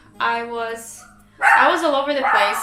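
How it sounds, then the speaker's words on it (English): A pet dog barks and yips loudly at close range in short bursts, overlapping with someone speaking. "That's my dog."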